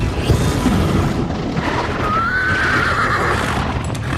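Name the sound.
horse neighing and galloping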